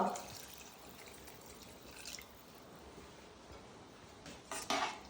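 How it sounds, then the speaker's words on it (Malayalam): Water pours steadily into a pot with a soft, continuous splashing, marked by a few light metallic clinks near the start and end. "നമുക്ക് വെള്ളം ഒഴിക്കാം"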